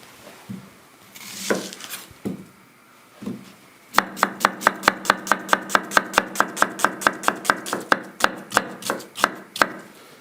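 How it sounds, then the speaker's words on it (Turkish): Quick, even knife strokes chopping an onion on a cutting board, a few scattered cuts first, then a long rapid run of sharp taps. "Yağımız eriyene kadar soğanı doğrayacağız."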